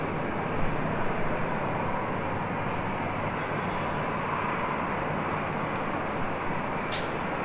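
Avianca Airbus A320neo airliner at an airport, a loud steady broadband jet roar that stays constant throughout at fairly close range, with a brief sharp clatter near the end.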